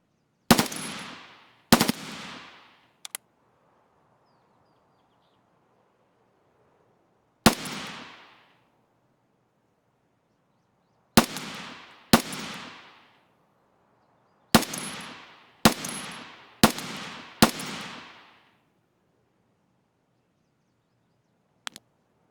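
Sharp single gunshots ring out in a video game, about ten close, loud reports fired at irregular intervals with quiet gaps between them and no talking.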